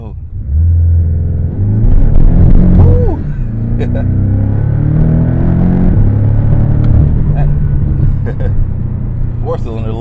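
A Porsche 718 Cayman base model with a grumbly 4-cylinder engine accelerates loudly from close by, its revs rising and falling through gear changes with a steady rumble throughout.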